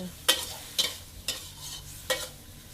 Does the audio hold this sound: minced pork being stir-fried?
yes